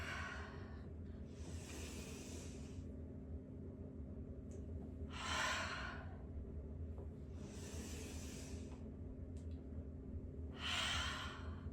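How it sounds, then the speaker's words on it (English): Slow, audible breaths exhaled through the mouth during a yoga session. About five soft, airy exhalations come at a calm, even pace over a low background hum, with no talking. "Exhale out of the mouth, fold and sit back down."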